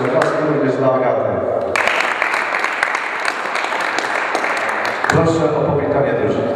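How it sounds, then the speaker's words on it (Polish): Audience applause at a table tennis team match between BLYSS Kujakowice and Dąbrowiak Dąbrowa Górnicza, steady and dense for several seconds in a hall, framed by a male announcer's voice before and after. "Oklaski również dla Agaty."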